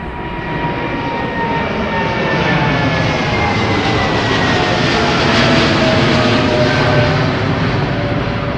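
An Oman Air Boeing 787 takes off at London Heathrow, its jet engines a loud, steady roar that fills the whole stretch with no break and no voices.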